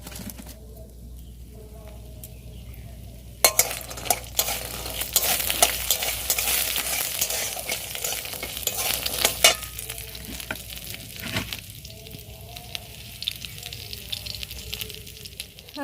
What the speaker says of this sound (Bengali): আর এই যে দেখো ভাজবো বড়িটা। তেলটা গরম হয়ে গেছে